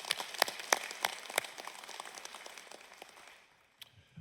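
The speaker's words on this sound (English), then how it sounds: "Please give them a round of applause for their service." An audience at an energy cooperative's annual meeting claps, with scattered sharp hand claps in a moderate, close patter that thins and fades out over a few seconds.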